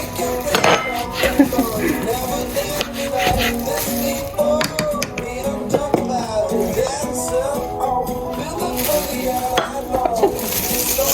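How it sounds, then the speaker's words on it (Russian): Meat sizzles in a pan while cooking outdoors on a cold, windy day, a continuous frying hiss under frequent clinks and scrapes of utensils against cookware, close and fairly loud throughout. "Мы жарим мясо."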